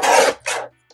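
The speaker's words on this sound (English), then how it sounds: "So I'll start by trimming off our little piece here and making this a true" Paper being trimmed for card making: two short rasping cutting strokes, the first longer and louder, the second briefer, close and clear, followed by near silence and a faint tap.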